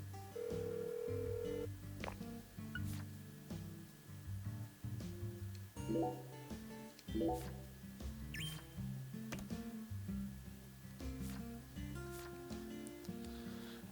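A phone booth telephone in the video game Deadly Premonition 2 gives short tonal beeps and clicks over a low, droning game soundtrack, with scattered tones and chirps throughout.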